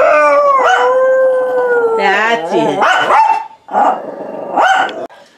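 Several dogs howl in long, wavering, close-up tones, breaking into sharp barks, while a person briefly speaks over them.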